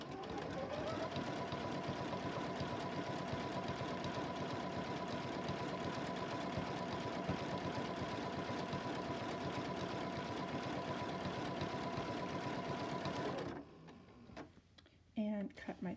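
A Continental M17 sewing machine stitches a decorative triple stitch in a steady, fast mechanical whir that runs continuously for about thirteen seconds, then stops, followed by brief handling noises.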